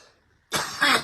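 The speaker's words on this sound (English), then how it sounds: "You too can cough your face off and lungs out like this too." After a quiet moment, a person gives a harsh, raspy cough, then a second louder burst, close and alone.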